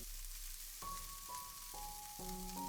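Okra (bhindi) pan-frying in oil gives a soft, continuous sizzle, faint and steady, with thin tonal notes appearing in the background.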